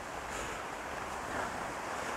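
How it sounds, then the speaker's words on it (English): Gusty wind near a dam, a steady broad roar with slight surges that rise and fall, close and continuous with no voices. "It's like gusts. It comes and goes."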